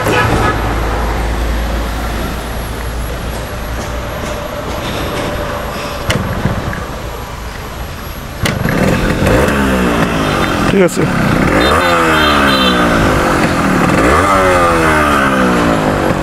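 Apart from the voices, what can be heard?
Yamaha RX-100 motorcycle engine running and revving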